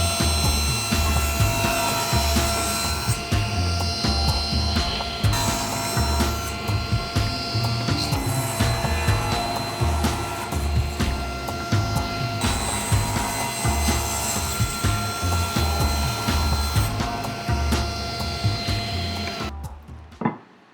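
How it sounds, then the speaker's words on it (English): A table saw cuts wooden boards to size, its motor giving a loud, sustained, steady whine with a rough cutting rasp layered over it before it spins down at the end. "off to the table saw, get that reset, and cut these down"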